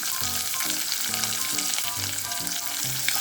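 Chopped onions frying in a pan for jeera uppittu, a steady close sizzle with faint stirring scrapes throughout and no voices.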